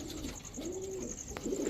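A Pakistani Teddy pigeon gives a single soft, low coo at close range, a rounded throaty call against faint background noise.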